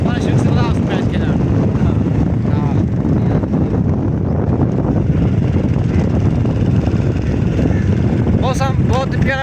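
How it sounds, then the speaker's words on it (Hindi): Heavy rain and gusting wind roar loudly and steadily outdoors during a rained-off match on Eid, with voices talking over the constant broadband rush. "बारिश तेज आ गई है"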